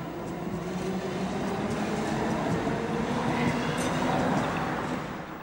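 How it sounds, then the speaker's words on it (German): A Cologne Stadtbahn light rail train on line 16 rolls past with a continuous, fairly loud rumble and rail hiss, sustained evenly from start to finish. "Eine Etage tiefer rollt die Linie 16 zwischen Bad Godesberg und Niel."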